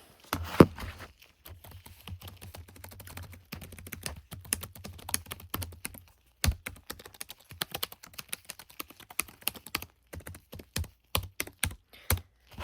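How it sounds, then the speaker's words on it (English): Steady typing on a computer keyboard in a quiet room, with close, crisp key clicks in irregular bursts and brief pauses throughout. "I'm gonna type a little note for you"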